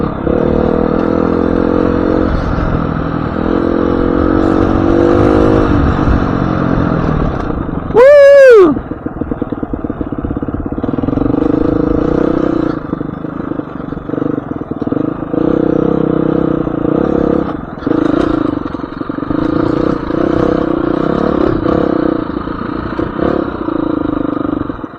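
A motorcycle engine chugs in second gear on a dirt trail, a loud, continuous low throbbing close by, with a brief rising rev partway through before settling back into the steady lugging rhythm.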